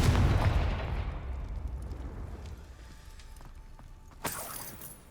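Confringo blasting spell exploding in a Harry Potter video game on PlayStation: a loud, deep boom at the start that rumbles and slowly fades over several seconds, then a sharp crack near the end.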